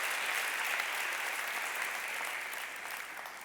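A church congregation gives a round of applause during a sermon, a full, continuous clapping that holds steady and eases off slightly toward the end.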